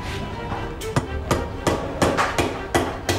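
The heel of a knife strikes a rock-hard coconut in a kitchen again and again, about eight sharp, hard knocks in an uneven rhythm, heard close up over low background murmur.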